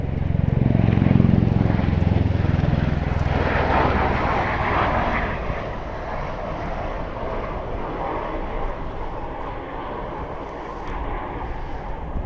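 A rotor-driven aircraft with a very loud engine roars close by, a dense, steady mechanical drone that swells early and then holds, with no talking over it.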